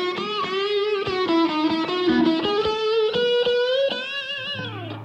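Electric guitar with the middle pickup phase reversed, a bright, thin, screaming sustained lead line with bends and vibrato, loud and close, no talking.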